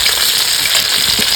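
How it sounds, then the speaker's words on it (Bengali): Pomfret fish frying in hot oil in a home kitchen, a close, loud, steady sizzle and crackle throughout. "এবার ঝোলের জন্য রূপচাঁদাটা ভেজে নেবো"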